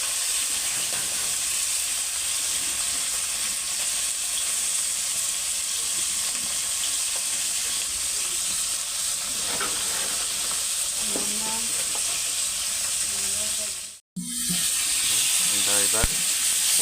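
Fish and potato pieces fry together in hot oil, a steady, even hiss and crackle running throughout, broken by a brief dropout near the end, then a few stirring knocks as the sizzle resumes.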